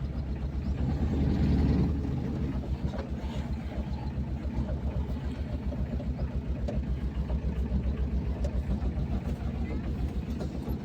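A car engine runs at low revs with a steady, pulsing rumble, fairly faint and unbroken, as the vehicle pulls forward to get into position to reverse.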